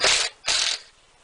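A 12mm socket ratchet clicks through two quick strokes loosening the thermostat housing nuts on a Toyota 3.4L 5VZ-FE engine, loud and close with no talk.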